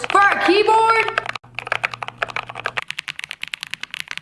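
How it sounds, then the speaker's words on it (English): A costly mechanical computer keyboard is typed on up close, giving rapid, crisp clicking keystrokes. Speech and a faint hum come first, then the keys continue alone. "does anybody actually buy a keyboard for the sound it makes?"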